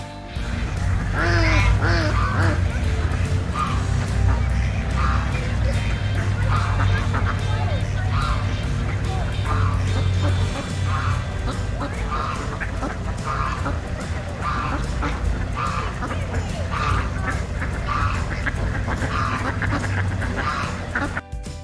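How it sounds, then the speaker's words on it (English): A duck quacks repeatedly in quick, nasal bursts, loud and close, with a steady low hum of farmyard background beneath. "Duck."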